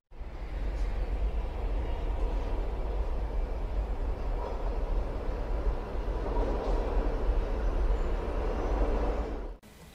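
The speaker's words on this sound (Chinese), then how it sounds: "我们要坐的这个地铁线是地铁二号线" A Shanghai Metro Line 2 subway train runs with a steady low rumble and rolling hiss heard from inside, constant and fairly loud for about ten seconds before cutting off abruptly.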